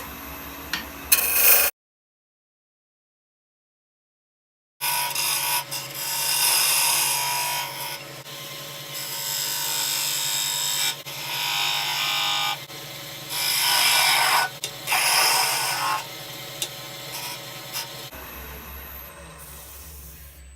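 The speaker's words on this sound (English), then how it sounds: "Now I'm going to form a tenon on this side using the parting tool, and then I'll clean it up with a skew chisel." A parting tool and then a skew chisel cut a tenon on a spinning wooden blank on a lathe. The scraping, rasping cuts come in long close bursts, broken by a few seconds of dead silence near the start.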